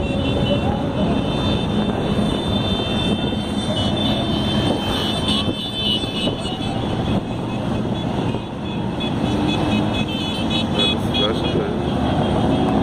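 A dense stream of motorcycles rolls past in a huge rally crowd, engines droning and overlapping in a loud, unbroken roar with faint voices mixed in.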